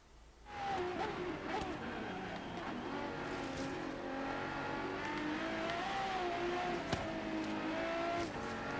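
Car engine in the racing game Forza Horizon 3 revving and accelerating through the gears to full throttle in the rain, the pitch climbing and dropping at each shift, with someone talking faintly underneath.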